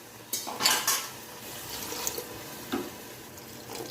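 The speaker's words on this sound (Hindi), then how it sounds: "मैंने इसमें थोड़ा सा डाल दिया है पानी, थोड़ा सा और डालूँगी" Water splashes and trickles into a pot of beef lobia in a home kitchen, a short pour with a brief louder gush near the start and faint clinks of the pot afterward, with no talking.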